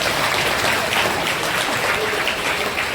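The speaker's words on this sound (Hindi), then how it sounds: "ताली बजा, एलिशा तेरा जन्मदिन आ रहा है।" A church congregation claps together at a Christmas Day service to celebrate an upcoming birthday, with dense, steady applause filling the whole stretch at full volume.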